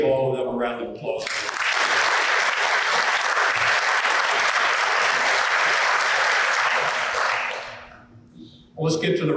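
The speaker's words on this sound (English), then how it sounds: "Let's give all of them a round of applause." Dense, hearty clapping from the crowd at a law enforcement graduation ceremony, building quickly and holding steady for about seven seconds before tapering off as a speaker resumes.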